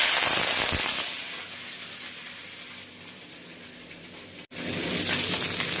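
Cumin seeds and then vegetables such as capsicum, beans and carrot sizzling in hot oil in a home kitchen, a steady bright hiss that eases after a second and swells again near the end after a brief dropout.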